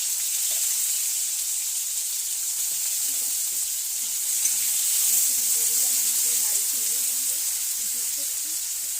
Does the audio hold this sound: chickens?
no